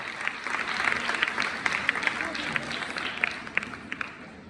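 An audience at an evening gathering applauds together, a dense steady wash of many hands clapping with a few sharper claps standing out, moderately distant and sustained throughout.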